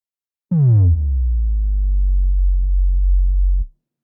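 A deep synth bass note holds for about three seconds, then takes on a gentle rhythmic LFO filter wobble near the end before cutting off.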